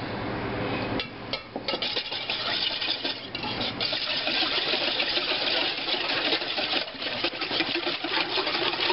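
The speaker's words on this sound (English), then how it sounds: "We're going to put in our melted butter. And we're going to whisk that together." A whisk clatters rhythmically against a bowl as melted butter is worked into waffle batter with eggs, a busy, close scraping and tapping that continues steadily.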